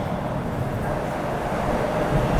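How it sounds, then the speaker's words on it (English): A train arrives at an early-morning commuter station, giving a steady low rumble with broadband rushing noise that holds even and continuous throughout. "And, here comes the train."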